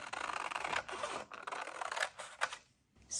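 Scissors snip through a paper envelope up close, making a few crisp rasping cuts with short pauses between them, with no voice over them.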